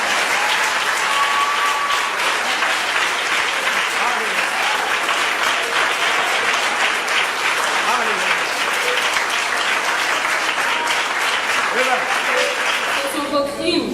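A congregation at a prison worship service applauds continuously, loud sustained clapping from many people, with a preacher's voice speaking over it near the end.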